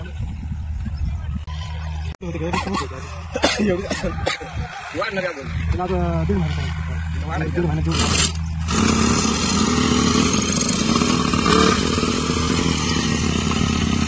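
A farm water pump engine on a cotton field coughs and clatters under chatter and laughter, then catches and runs with a steady loud drone through the last several seconds.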